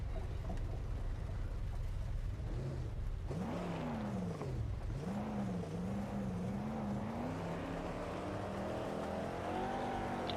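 A race car engine in a racing video game revs and accelerates through rising, falling pitch sweeps, steady and loud throughout with no talk.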